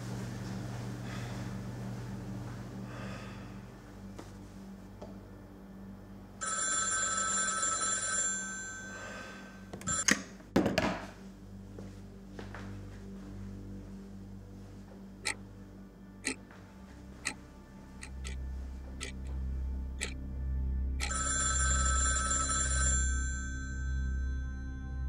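A telephone rings indoors in repeated bursts separated by quieter gaps, with occasional clicks and a low hum between rings; no speech.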